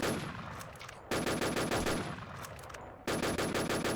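Video game gunfire in sharp automatic bursts, with three loud volleys separated by brief lulls and a faint high tone running over the shooting.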